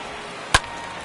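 A baseball bat fouls a pitch straight back at an Astros versus Angels opening-day game. One sharp, short crack rings out over the steady hum of the ballpark crowd.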